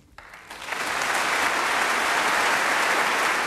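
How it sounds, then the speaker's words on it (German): Strong applause for the first president of reunified Germany at a unity celebration, a crowd's clapping swelling quickly from quiet into a loud, sustained roar. "Starker Beifall für den ersten Präsidenten des Vereinigten Deutschlands."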